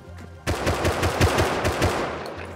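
Automatic gunfire in the video game Rust, a rapid burst of about a dozen loud, close shots in quick rhythm after a brief quiet lead-in.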